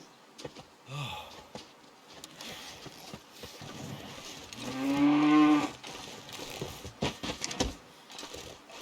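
A moose in the survival game The Long Dark gives a single deep, drawn-out bellowing call mid-clip, surrounded by scattered knocks and rustling game noises at moderate volume.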